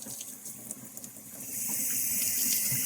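Lukewarm water runs steadily from a sink tap, a continuous hissing splash that grows fuller and louder about halfway through.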